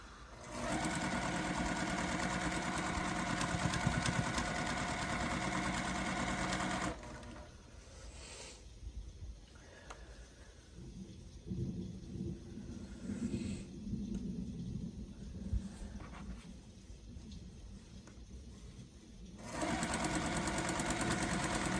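A sewing machine stitches rows of a quilt, running loud and steady for several seconds, then working in short, uneven bursts with pauses, before picking up a continuous run again at the end.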